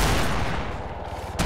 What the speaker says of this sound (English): Well, it's hard to aim this thing. It's an anti-tank rifle.